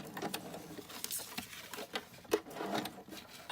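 A sewing machine stitching a zigzag across a paper snippet from an altered book, giving quiet irregular rapid ticking and patter with short clicks, close by and fairly faint.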